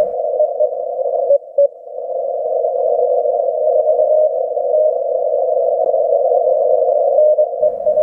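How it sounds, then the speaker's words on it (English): A single steady tone from an amateur radio transceiver sending Morse code at 5 watts QRP power. It sounds loud and near, holding almost continuously with a couple of brief gaps. "whatever I type is going to go out as Morse code"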